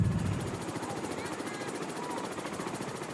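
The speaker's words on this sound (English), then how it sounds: "The sound of the helicopter means much needed food has arrived." A helicopter delivering food to a flooded area hovers nearby, its rotor thumping in a fast, steady rhythm over a constant engine whine.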